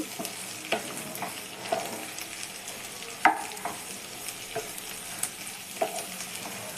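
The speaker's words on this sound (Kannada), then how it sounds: "ಕ್ಲೀನಾಗಿ ಒಂದ್ಸಲಿ ಎಲ್ಲ ಮಿಕ್ಸ್ ಮಾಡ್ಕೊಳ್ಳಿ ಸಿಮ್ಮಲ್ಲೇ ಇಟ್ಟು ಬೇಯಿಸ್ಕೊಬೇಕು" Shredded cabbage palya is stirred and mixed in a pan over low heat, with a soft continuous sizzle beneath repeated scraping strokes of the spoon at an uneven rhythm.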